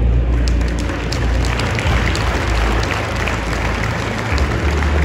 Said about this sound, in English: Just give a big round of applause,